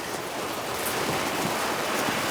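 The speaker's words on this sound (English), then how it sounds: "Sound of rain." Steady rain hissing down on a surface, a continuous dense wash of drops with no pauses, fairly loud and even throughout, no voices.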